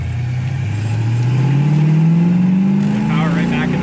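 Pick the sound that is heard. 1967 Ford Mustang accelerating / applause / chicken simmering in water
1967 Ford Mustang accelerating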